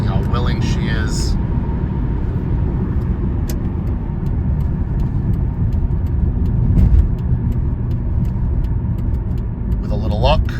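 1993 Ford Probe GT accelerating in fourth gear, a loud, steady engine drone with road noise heard from inside the car, with someone talking briefly near the start and end.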